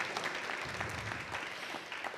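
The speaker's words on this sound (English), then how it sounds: "Members of our volunteer council, big round of applause" Steady applause from a crowd of members at a museum's annual meeting, dense and continuous clapping throughout with no one speaking.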